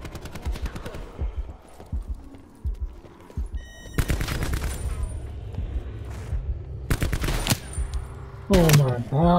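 Shotgun blasts in Call of Duty: Black Ops 4, several sharp, loud, booming shots spaced apart over busy match noise, with a voice briefly heard near the end.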